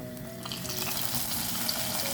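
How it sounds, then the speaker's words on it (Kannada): Tempering sizzles and crackles as it is added to a boiling dish on the stove, giving a steady, close frying hiss that runs throughout without talk. "ಈ ಥರ ಕುದಿಬೇಕಾದ್ರೇ ನಾವು ಮಾಡಿಟ್ಕೊಂಡಿರೋ ಒಗ್ಗರಣೆನ ಸೇರಿಸ್ಕೊಬೇಕು"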